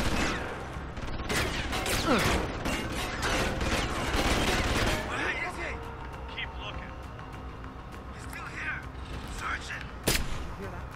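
Gunfire in Deus Ex: Human Revolution, a burst of rapid shots crowding the first five seconds, then sparser mechanical clicks and one sharp late report, loud and close amid game noise.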